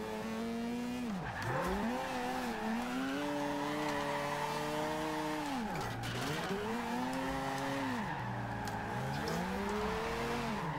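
A Mazda RX-7 drifting in the racing game Forza Horizon 2, its engine note rising and falling through repeated revs and shifts while tires squeal steadily underneath, loud and continuous with no talking.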